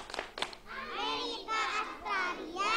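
Kindergarten children do the 'tepuk budaya' clapping game, with a couple of crisp claps at the start and then rhythmic high-pitched group chanting that continues in short phrases.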